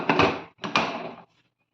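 A pressure cooker lid is closed over a boiling tamarind and green chilli pickle, two quick clanking thuds close together, each with a short ringing tail.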